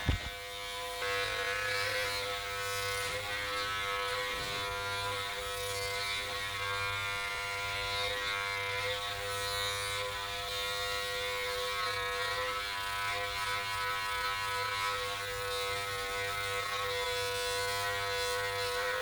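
A Braun Series 7 body groomer trims underarm hair, a steady close electric buzz with a fine rattling edge running unbroken for nearly twenty seconds, no talk over it.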